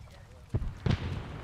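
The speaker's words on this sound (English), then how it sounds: "Popping frags to our right" Two frag grenades exploding in Arma 3, a pair of muffled thumping blasts about a third of a second apart, mid-distance, with a low rumble trailing after.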